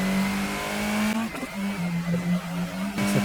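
A race car engine in the 1998 PlayStation game Gran Turismo revs loudly and steadily, then the pitch drops and climbs again through a gear change, staying close and dominant with no speech.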